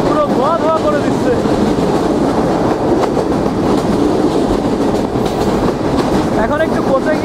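Chitra Express intercity train in Bangladesh, hauled by a 63-series locomotive, rolling steadily along the rails with a loud, continuous rumble and rattle close by, plus occasional high squeals from the wheels.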